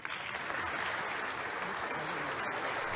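Applause fills the room after a speech ends, steady and moderately distant for a few seconds, with a sharp click near the end.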